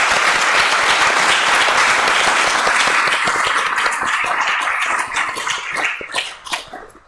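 Audience applause at a Buddhist honor ceremony for newly conferred Dharma titles, loud dense clapping from a full room that thins into scattered individual claps toward the end.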